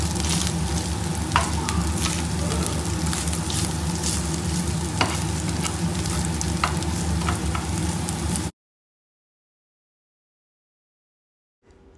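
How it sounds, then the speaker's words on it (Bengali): Fresh kachki fish fry in hot oil with a loud, continuous sizzle and occasional stirring clicks, then the sound cuts to silence. "ভাজা হচ্ছে কাঁচকি মাছ, টাটকা কাঁচকি মাছ দেখাচ্ছি।"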